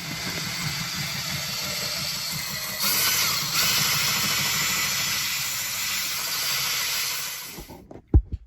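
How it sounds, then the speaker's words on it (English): A steady, whining power drill runs continuously for about seven and a half seconds, drilling a hole in a wooden micro camper, rising slightly partway through, then stops with a couple of clunks. "So time to drill a hole."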